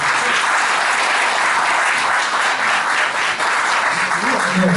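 A crowd gives sustained, dense applause to welcome a mayoral candidate at a 2018 press conference held in a city hall book cafe. The clapping is loud and steady throughout, and a voice briefly surfaces near the end.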